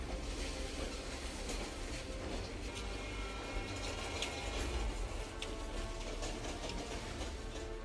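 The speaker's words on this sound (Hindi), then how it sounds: "रेलवे ट्रैक पर बेपरवाह दौड़ती ये मालगाड़ी" Coal-laden freight train running along a railway track out of a rail siding in Baghmara, a steady, fairly faint rumbling clatter of wheels and wagons that continues throughout.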